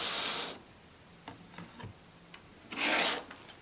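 Fabric is cut along a ruler with a rotary cutter while making a beginner quilt from pre-cut pieces, heard as two loud rasping strokes at the start and near the end, with a few faint ticks and scrapes between them.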